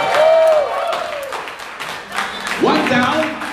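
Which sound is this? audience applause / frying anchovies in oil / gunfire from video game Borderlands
audience applause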